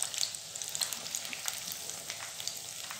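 Potato cheese balls fry in a pan of oil on a low flame, a dense continuous sizzle with small popping bubbles, close and fairly quiet.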